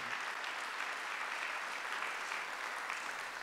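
A church congregation at a Sunday worship service applauds, steady even clapping from many hands filling a short stretch, moderately distant and alone.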